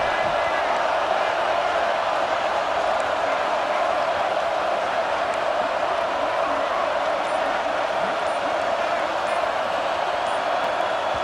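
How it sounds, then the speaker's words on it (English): Steady, dense roar of a stadium crowd in EA Sports College Football 26, a loud continuous wash of noise building as the offense lines up on fourth down, with murmured voices blended through it. "And with this place rocking, the crowd forces a false start."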